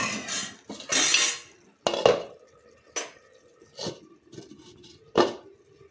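Metal spoon scraping and clanking against a pan while a crab roast is stirred, several separate bursts of scraping and knocks, close and fairly loud with no talk.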